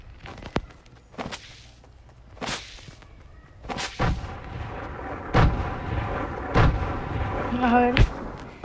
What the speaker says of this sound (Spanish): Voy a lanzar granadas a lo loco.